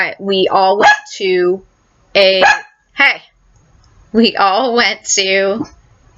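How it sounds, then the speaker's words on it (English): A dog barks in short, sharp bursts, several loud barks in clusters with pauses between, close by and mixed with someone speaking. "I had to let the dog out of the room before she was barking."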